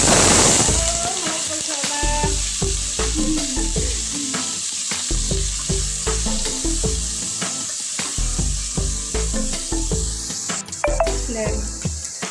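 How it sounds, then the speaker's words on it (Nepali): Paneer cubes fry in a hot pan for a vegetable biryani, giving off a steady, loud sizzle and crackle with the soft knocks of stirring throughout. "पनिर पनि मैले फ्राई गरिसकेँ होइन।"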